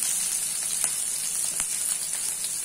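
Onions sautéing in a pan over a low flame, giving a steady, even sizzle with a couple of soft clicks from stirring, close and alone.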